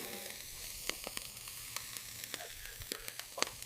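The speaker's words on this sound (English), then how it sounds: "Let's get this meat sizzling." Meat sizzles steadily on a hot portable grill at a mountain campsite in Korea, with scattered sharp pops and crackles over a soft hissing bed, close by.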